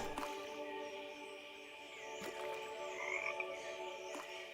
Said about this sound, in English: Whenever the frogs get to water, they just respawn.